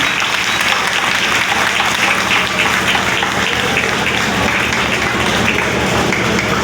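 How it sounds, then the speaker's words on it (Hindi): A crowd gives a guest a loud, sustained welcoming ovation at a public gathering, dense clapping roaring steadily at full strength without pause and with no talk over it. "तालियों से उनका स्वागत होना चाहिए"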